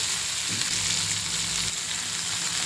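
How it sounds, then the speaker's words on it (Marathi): Prawns frying in a pan over a low gas flame, a steady, dense sizzle that holds at an even level throughout with no voices. "इथे आता आपली कोलंबी भाजून झाली आहे"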